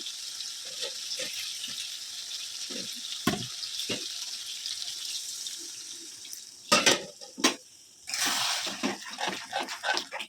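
Hot water is poured into a vegetable curry with paneer in a wok, a steady watery splash and running flow with clinks of pots and utensils, fairly close.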